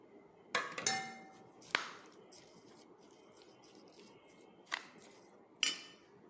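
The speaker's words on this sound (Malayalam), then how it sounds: "തേങ്ങ ചുരണ്ടിയത് പഞ്ചസാര ഇത് രണ്ടും കൂടെ ഇളക്കിയിട്ട് ചക്കപ്പഴത്തേക്ക് ഇട്ട് ഇളക്കുന്നു" A spoon stirs grated coconut and sugar into ripe jackfruit in a bowl. A handful of sharp, separate clinks and scrapes sound at close range, with quiet pauses between them.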